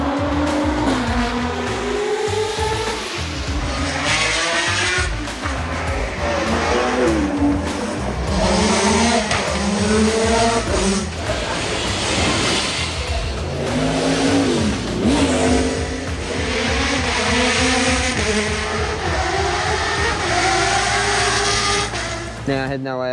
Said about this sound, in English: Oh my goodness, how wild are these Dakar cars?